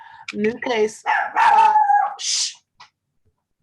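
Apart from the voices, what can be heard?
dog barking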